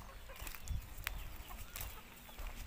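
Bhimavaram breed chickens, young five-month-old birds for sale, give faint, scattered clucks over a steady low background hum.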